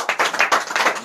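Audience at a live show applauding, a short run of distinct, fairly close hand claps in a quick uneven rhythm lasting about a second.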